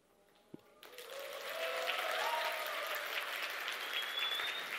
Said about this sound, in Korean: 박수 치다가 1시간 갈 것 같아요.